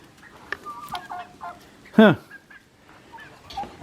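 Chickens, both hens and a rooster, cluck and squawk close by in short, irregular bursts, with one louder call standing out among quieter noises.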